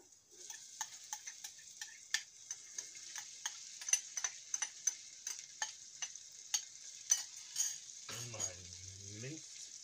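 Onions sizzling in a pan for chicken pot pie, a steady hiss with a string of evenly spaced sharp ticks from stirring, and a brief low voice near the end.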